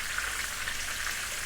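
Masala of spices and salt cooking down in a pan for gutti vankaya (stuffed brinjal) biryani, a steady close sizzle with crackly hiss running evenly throughout, no talking.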